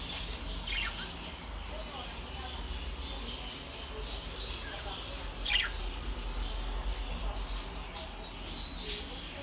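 Short, faint squawks from rainbow lorikeets break through now and then over a constant low background hum.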